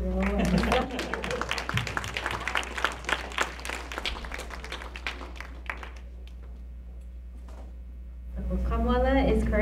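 Brief clapping from a lecture audience honouring a family seated in the third row, scattered hand claps fading out midway, followed by quiet and then talk resuming near the end.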